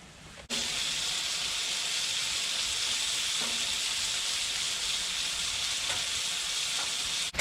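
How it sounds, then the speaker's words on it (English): Bacon frying in a pan with a little butter at a tipi camp in the Mendip Hills, a loud steady broadband sizzle that starts abruptly and holds throughout, close up with no voices. "So for my evening meal, I've got bacon on the go there."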